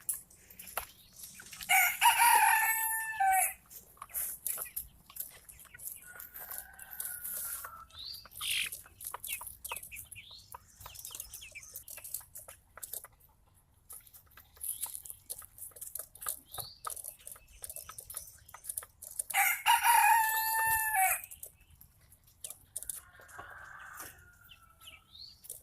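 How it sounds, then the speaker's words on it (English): A rooster crows loudly nearby twice, about twenty seconds apart, each a long strained call, while a second rooster answers faintly from the distance; quiet outdoor farm background with light clucks and chirps between. "That other rooster off in the distance got you crowing your head off"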